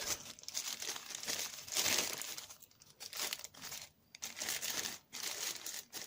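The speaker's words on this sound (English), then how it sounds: "And let's unwrap this." Plastic packaging around a pair of Pandas sunglasses with metal arms is unwrapped, giving close, irregular crinkling and tearing rustles in short bursts over about six seconds.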